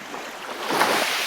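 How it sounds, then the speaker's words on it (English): Waves wash ashore at Baros Beach on Crete, Greece, a soft, continuous rushing surge that swells briefly, with a breezy hiss and no voices. "The waves of Baros Beach creep past by"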